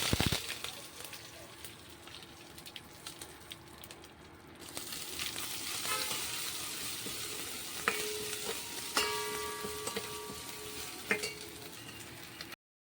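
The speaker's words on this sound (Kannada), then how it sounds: "ಸಾಸಿವೆ ಮತ್ತಂದ್ರೆ ಜೀರಿಗೆ ಹಾಕೊಂಡ್ಬಿಟ್ಟೆ ನೋಡ್ರಿ ಇದು ಒಂದು ಜರನೇ ಚಟಪಟ ರೀ" Mustard seeds and cumin crackle and sizzle in hot oil on a home stove, a steady close hiss dotted with sharp pops and stirring scrapes that grows louder after the first few seconds.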